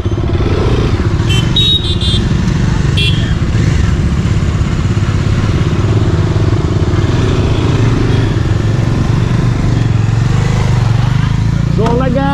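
Several motorcycles on a group Sunday ride rumble steadily along a road, with a continuous engine drone and wind noise, and a voice speaks over it.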